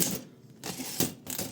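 A 1974 Olympia SM8 manual typewriter is typed on in a steady rhythm, with a few crisp, close key strikes separated by brief pauses.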